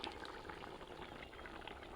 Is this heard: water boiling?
yes